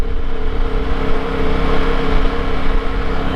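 A 2021 Triumph Tiger 900 GT Low motorcycle engine drones steadily while riding, a continuous close hum with tonal harmonics and wind rumble, no talking over it.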